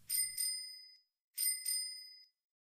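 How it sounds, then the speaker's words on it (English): Two quick double rings of a bicycle bell, bright and close, each pair fading out before the next, with no voices. "It sounded like someone ringing a bicycle bell."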